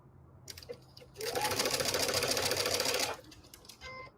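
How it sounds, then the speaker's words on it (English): A sewing machine stitches a snowball quilt block in one quick burst of rapid, even whirring lasting about two seconds, with soft handling clicks before and after. "So that's why I am stitching one block at a time."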